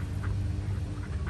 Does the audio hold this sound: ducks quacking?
yes